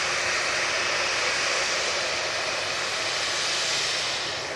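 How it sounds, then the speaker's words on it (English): A Jet2 airliner takes off from Manchester Airport bound for Girona, a loud, broad jet roar that holds steady and then starts to fade as the plane climbs away. "It's off to Girona, this Jet2."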